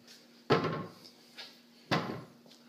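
A large, deep soft-close drawer slides shut twice, each a smooth muffled thump with a short rolling tail, plus lighter knocks between, close and fairly quiet in a room with no talk.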